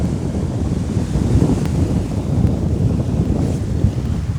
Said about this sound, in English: Wind hit me rods, blew me rods over.